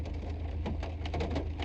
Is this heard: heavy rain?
yes